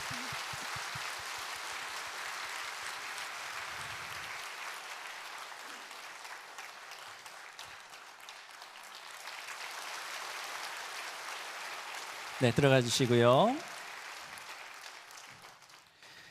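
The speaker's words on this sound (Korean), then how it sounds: "우리 모두 큰 박수로 환영해 주시기 바랍니다" A church congregation applauds during a Sunday worship service to welcome a newly introduced pastor and his family, a steady wash of hand clapping that fades, followed by a brief spoken instruction.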